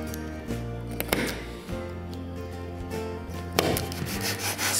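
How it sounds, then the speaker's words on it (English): Sandpaper rubs steadily around a wooden guitar rosette ring, a close scratchy abrasion with brief stronger strokes and no talking. "Sand that nice and rounded, get all the bumps off."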